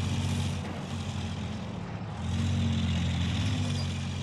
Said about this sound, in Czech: Ale máte hezký zvuk motoru, to se vám musí nechat.